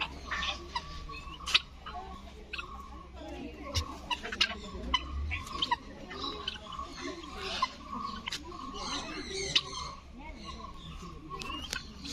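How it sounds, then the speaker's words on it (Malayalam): American Silkie chickens cluck and chatter in an enclosure at the Nisargadhama bamboo forest in Kodagu, faint and scattered, with people talking over them. "കോഴിവർഗത്തിൽപ്പെട്ടവയാണ് അമേരിക്കൻ സിൽക്കി ചിക്കൻ"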